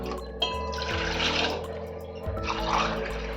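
Water from a tumbler is poured over hibiscus flowers to make sherbet, two close splashing pours separated by a short pause, with running-liquid sounds and no talk.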